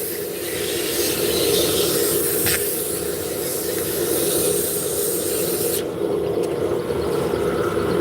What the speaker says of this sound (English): we're going to turn the speed down and we're going to sand it out